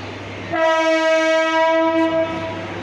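A Mumbai local slow train at Goregaon sounds a loud, steady horn lasting about two seconds over a continuous low rumble of the running train.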